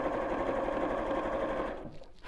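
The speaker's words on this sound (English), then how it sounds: "I'm just loads of pins and sewing around here" A domestic sewing machine stitching fabric, running steadily with a dense, close mechanical whir and needle patter, then slowing and winding down near the end, with no voices over it.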